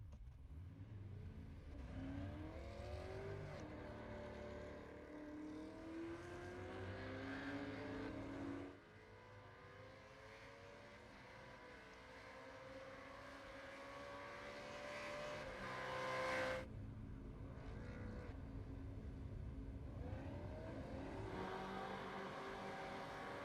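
Supercars race cars streaming out of the pits onto Mount Panorama Circuit for qualifying, several engines revving and rising in pitch as they accelerate away, one after another, at moderate distance.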